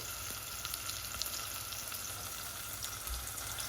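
Onions fry for chakalaka in hot oil, giving a steady, close sizzle that crackles evenly throughout with no talking.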